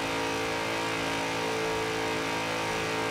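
Engine of a 2002 BMW M3-GTR race car in Forza Horizon 4, a loud, steady drone held at constant revs with a rich harmonic tone throughout and no talking.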